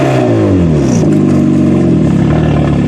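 A Mini Cooper demolition derby car's engine revs loud and close, climbing and falling in pitch in continuous surges over about three seconds.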